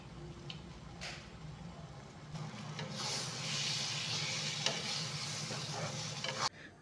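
Spices frying with masala powder in a pan for achari chilli paneer, a steady sizzle and hiss with occasional stirring scrapes, close and continuous until it cuts off near the end.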